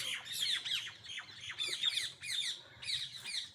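A flock of parrots squawks in repeated shrill bursts, several birds calling over one another at close range, loud and continuous with no voices.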